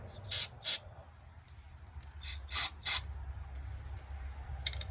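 Short hissing bursts from an aerosol can of carburetor cleaner sprayed onto a carburetor, two quick squirts, a pause, then three more and a final brief one, fairly close.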